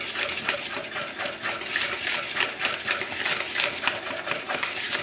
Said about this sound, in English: So I'm going to take my whisk and whisk that up